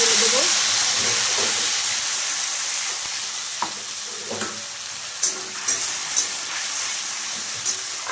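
Masala spices sizzle and fry in a hot pan alongside an egg, a steady loud hiss with scattered stirring clinks and pops toward the end.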